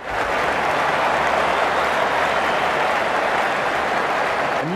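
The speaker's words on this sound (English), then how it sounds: "The crowd's on their feet, probably hoping they can catch a six." A cricket crowd in the Ashes Cricket video game roars and applauds in a dense, steady wash of cheering that holds loud and unbroken throughout.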